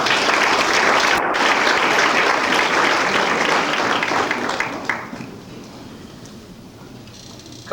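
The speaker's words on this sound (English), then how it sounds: "Give them a round of applause." A banquet crowd at a basketball awards dinner gives committee members a loud, sustained round of applause that fades after about five seconds into quieter room murmur.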